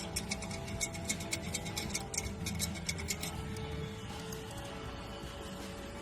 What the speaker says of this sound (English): Customer's new car developed a rattle in the dash when turning.